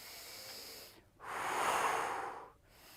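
During a beginner Reformer Pilates exercise, one person takes a soft airy breath, then lets out a longer, louder breathy exhale, close and alone without talk.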